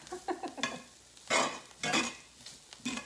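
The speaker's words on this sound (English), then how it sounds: "I'm gonna keep moving these vegetables around. Cooking off this flour." Vegetables stirred through a sizzling blonde flour roux in a pan for a shrimp sauce, with a few bursts of scraping and frying hiss rising and falling, up close and free of talk.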